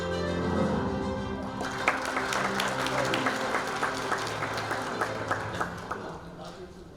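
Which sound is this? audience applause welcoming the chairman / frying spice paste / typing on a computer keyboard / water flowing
audience applause welcoming the chairman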